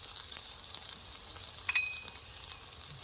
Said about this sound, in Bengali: ঢাকা খুলে আবারও মশলাটাকে ভালো মতো নেড়ে নেব